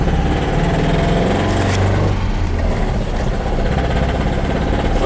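A Mazda B-2200 pickup's engine idles roughly, a loud, close, steady mechanical rumble with an uneven, lumpy pulse and no voices.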